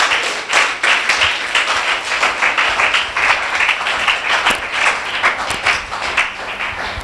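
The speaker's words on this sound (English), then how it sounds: "It deserves a clap" A church congregation claps in a long, dense burst of many hands, loud and sustained throughout, with a few sharper individual claps near the end and no voices over it.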